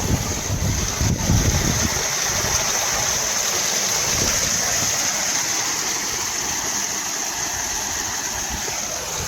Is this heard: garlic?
no